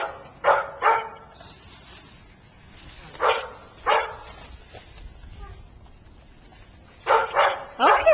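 A puppy at a home visit barks and yips in short bursts, a pair early on, two single barks mid-clip and a quick cluster at the end, loud and close with quiet gaps between.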